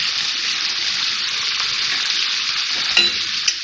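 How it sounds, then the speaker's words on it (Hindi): Garlic ginger paste sizzles steadily in hot oil for a beef karahi, a dense continuous frying hiss with a couple of soft stirring knocks near the end, close and fairly loud. "थोड़ा सा भूनेंगे इसको।"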